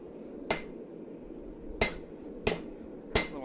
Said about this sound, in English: A little hammer on hammer violence there.